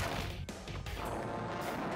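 Gunfire aimed at a boss in the ScourgeBringer action game: a short burst of loud, crashing shots and impacts packed into a couple of seconds, steady and close.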